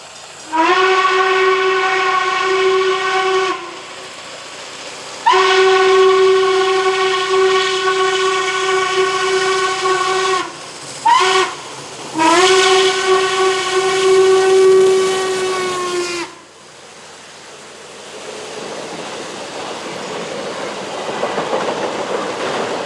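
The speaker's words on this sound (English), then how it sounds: "1218 thunders through the rolling countryside of Kentucky, new territory for a Class A locomotive." Norfolk and Western Class A steam locomotive 1218 passes through rolling Kentucky countryside, its deep multi-chime whistle blowing loud in long blasts, then short bursts, before the rumble of the passing train takes over and fades.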